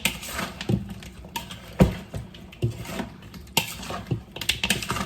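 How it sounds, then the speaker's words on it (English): Curry goat stirred in a pot with oil: repeated scraping clinks and knocks of a spoon against the pot at an uneven rhythm, close and moderately loud, over a steady background hiss. "while we're stirring. Stir it."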